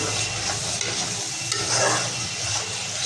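A ground paste of ginger, garlic, cumin and dried chili frying and being stirred for a fish and potato curry, giving a steady dense sizzle with soft stirring scrapes throughout.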